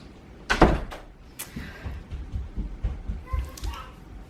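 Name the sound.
door closing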